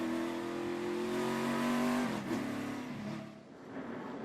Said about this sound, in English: And there is the pace car.